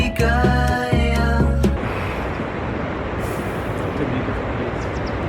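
Water flowing steadily beside a street in Kyoto makes a broad, even rush that runs through most of the moment, after a short tonal, brake-like vehicle sound at the start.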